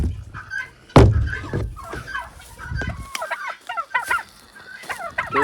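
Turkeys on a cold winter farm give a run of gobbling and clucking calls, fairly close and loud, rising after a single sharp thump and continuing in rapid warbling bursts.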